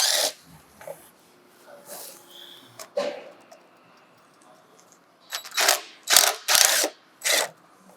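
A hand ratchet works the skid bolts loose on a draper header, making a series of sharp clicking bursts with pauses in between. Several louder, closer ratcheting strokes come near the end.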